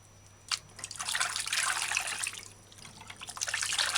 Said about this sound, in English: While it's running under the faucet, you just use your fingers and separate the bush or the leaf or the stem